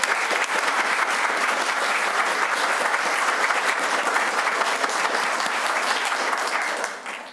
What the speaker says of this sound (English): Let's give our school board a round of applause